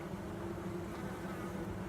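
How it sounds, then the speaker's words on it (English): Honey bees buzz around the frames of a top bar hive, a close, steady low drone that holds without a break. "There's a lot of bees working right through here."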